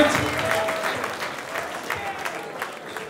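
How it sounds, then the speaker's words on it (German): A crowd at a freestyle rap battle contest in Köln claps steadily after the first battle, a dense and sustained wash of applause. "Macht mal Applaus für dieses erste Battle!"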